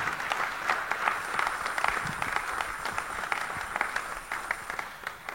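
A church congregation applauds Jesus with sustained, dense clapping from many hands in a large room, steady and moderately loud throughout with faint voices mixed in.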